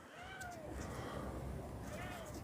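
A cat meows twice, two drawn-out, rising-and-falling cries close by that are spaced about two seconds apart, with background noise and a little talk around them.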